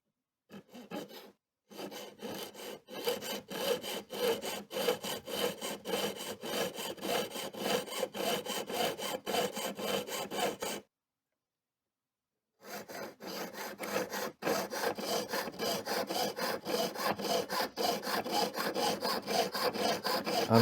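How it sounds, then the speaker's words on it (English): A fine saw blade cuts through metal while a stone prong is being made, producing a fast, even rasping rhythm of close strokes that pauses briefly twice before resuming. "the next step is to cut with the saw blade all the way right here"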